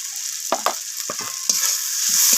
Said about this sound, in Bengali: সমস্ত কিছু মশলা এইভাবে নাড়াচাড়া করে একটু ভেজে নিচ্ছি